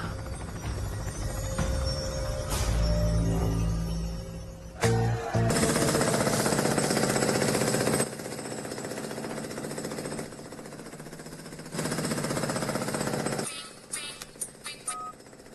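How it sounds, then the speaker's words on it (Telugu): A loud, rapid chopping roar of a helicopter, pulsing steadily and swelling in bursts, with sharp clanks near the end. "మన ఊర్లో హెలికాప్టర్ ఏట్రా?"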